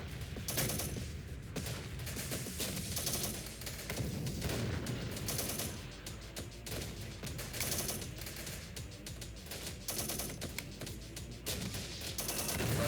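Syrian Warfare's urban battle crackles with rapid, relentless machine-gun fire and scattered blasts, a dense rattling fusillade that never lets up, moderately distant and uneven in rhythm.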